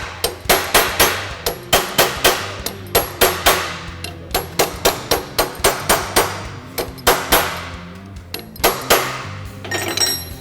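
A set tool is struck repeatedly with a hammer to form a metal header panel, loud sharp metallic blows in quick bursts and steady runs, about thirty hits with brief pauses, and no voices.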